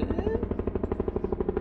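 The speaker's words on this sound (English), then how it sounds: "That's a helicopter." A helicopter in the video game Metal Gear Solid V gives off a steady, fast rotor chop, loud and close, with rhythmic thumping pulses throughout and no talking.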